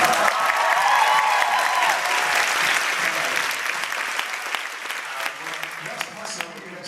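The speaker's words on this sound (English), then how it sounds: "Let's give him a round of applause" A convention crowd at a Supernatural fan panel in Vancouver applauds a fan, dense sustained clapping with whoops loud at first, then gradually thinning and tapering over several seconds.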